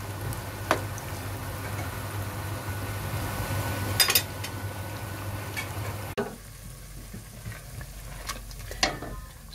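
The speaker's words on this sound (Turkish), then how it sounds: "Tenceremize patlıcanlarımızı koyduk. Patlıcanlarımızı şimdi güzelce kızartacağız." Eggplants frying in a pot for an easy Turkish eggplant dish, a steady close sizzle and crackle of hot oil throughout, with a brief louder clatter near the middle and a few utensil taps toward the end.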